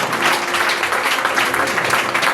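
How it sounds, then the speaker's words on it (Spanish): A church congregation applauds, steady, dense clapping filling the room without a break, loud and close, with no clear speech over it. "Den un aplauso al Señor."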